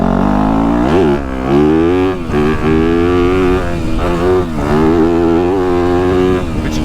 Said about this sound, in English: Now this bike has an FMF exhaust on it.